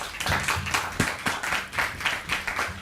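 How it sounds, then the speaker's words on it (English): Audience applause for a panel after a film screening and discussion, a steady wash of many hands clapping at moderate volume with faint talk underneath. "so let's give our panel a round of applause."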